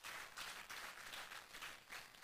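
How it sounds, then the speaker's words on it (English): Applause from an audience at an awards ceremony honoring an engineer, a steady, dense wash of many hands clapping, quiet and distant throughout with no voices over it. "A round of applause for Engineer Mansur."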